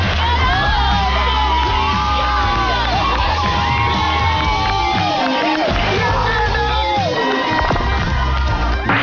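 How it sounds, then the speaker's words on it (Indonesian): Students cheering, whooping and shouting in a loud crowd at a graduation ceremony, a dense continuous roar of excited voices near and constant throughout. "Ia pun turun dari panggung dengan tepuk tangan dan tertawaan siswa lain."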